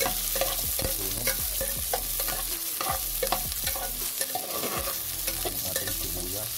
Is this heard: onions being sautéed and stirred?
yes